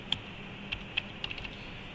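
A few sharp keystrokes on a computer keyboard while entering a search in Windows, about six irregular taps spread over two seconds against a quiet background.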